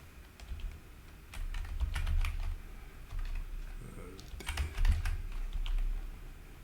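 Typing on a computer keyboard, with irregular clusters of clicking keystrokes close by over a low room hum and no speech.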